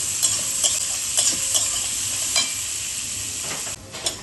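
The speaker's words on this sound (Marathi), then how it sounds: "आता कांदा थोडं परतून झालं पिंकिश कलर" Onions sauté in a pan with bay leaf and mustard seeds for ragda pattice, a constant sizzle broken by a series of scraping stirs and utensil taps.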